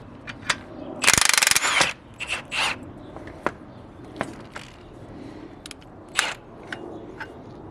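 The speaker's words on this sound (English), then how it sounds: "with the hand tool, I pretty much tighten this up as much as I could, but just to show you how much it actually compresses" A hand coil spring compressor ratchets down on a lowering spring for a 1998 Mustang Cobra, with clicking ratchet strokes, a burst of harsh grinding and scattered metallic clanks, close and fairly loud.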